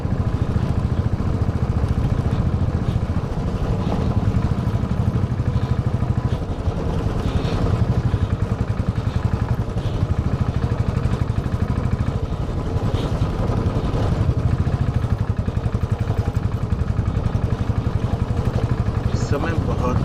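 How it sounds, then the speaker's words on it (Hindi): Motorcycle riding along a very narrow mountain road beside a slope in a landslide-prone zone of Ladakh, its engine a steady, continuous rumble mixed with wind noise throughout. "इस समय बहुत ही सकरे रास्ते से बाइक गुजर रही है"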